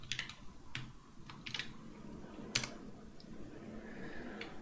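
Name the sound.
typing on a computer keyboard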